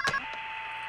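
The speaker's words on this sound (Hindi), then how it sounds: "शोभा जरा देखो तो बेटा फोन" A household telephone gives a brief electronic ring burst, followed by a steady, fainter tone that continues to the end.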